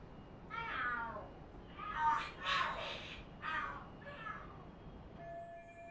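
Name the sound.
cats fighting and screaming in the video game Lost Judgment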